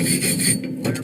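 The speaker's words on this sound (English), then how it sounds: "strip the slag off" Welding slag is stripped off a finished weld, a short harsh scraping rasp of metal up close that breaks off partway and resumes briefly, with no talking.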